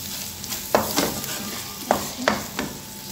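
Garam masala stirred into minced meat and onions frying in a pan, a continuous sizzle broken by four or five sharp spoon scrapes and knocks against the pan, close and clear with no talking.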